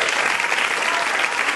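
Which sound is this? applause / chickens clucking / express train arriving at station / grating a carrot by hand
applause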